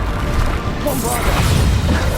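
The Bombarda explosion spell from Hogwarts Legacy goes off as a loud, dense magical boom with a rumbling burst. It holds steady for about two seconds and is heard alone.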